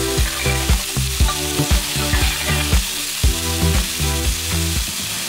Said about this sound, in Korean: 어제 먹고 남은 앞다리살을 구워서 거기다가 김치와 밥을 볶아 먹을 거예요